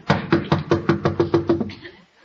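Rapid knocking on a door in an old family sitcom setting, about nine even raps in quick succession, close and loud, then stopping.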